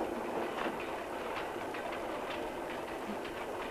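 A passenger train runs on rails with a steady rumbling roar inside the carriage and faint rhythmic clicks from the wheels, with no talking.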